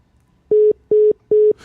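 A landline phone call connecting: three identical electronic tone beeps, evenly spaced and loud, followed by a brief burst of line noise as the call picks up.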